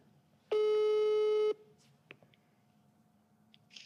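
A telephone tone sounds while a call is placed, one steady electronic beep lasting about a second, loud and clear over quiet room noise with a few faint clicks afterward.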